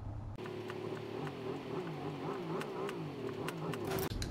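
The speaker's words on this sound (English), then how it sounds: "coming up to the next hill, we're going to give it a tiny bit of revs." A car engine in Gran Turismo 7 hums and rises gently in pitch under a light throttle blip while climbing toward a hill, steady and close, with a brief dip near the end.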